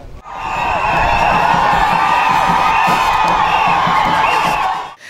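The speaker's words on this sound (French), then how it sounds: "il se retrouve face à une foule euphorique" Euphoric crowd greeting the archbishop's arrival on the tarmac in Côte d'Ivoire: a loud, sustained roar of cheering and shouting voices, continuous and close, swelling in after a brief start and cutting off abruptly at the end.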